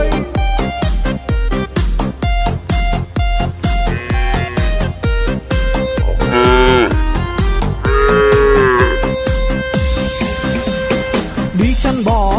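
Cows moo in a Vietnamese children's song about herding cattle, long bellowing calls rising over a loud, steady, bouncy backing beat.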